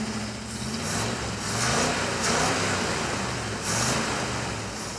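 A Ford Ranger engine, just fitted with a replacement fuel pump, runs with a steady close rumble and several rhythmic surges in level, like repeated revving, with no talking.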